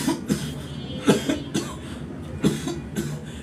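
A doctor imitates a mild, slow closed-mouth cough: several soft, muffled coughs spaced out at an unhurried pace, heard close and alone without any speech.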